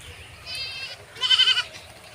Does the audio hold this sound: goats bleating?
yes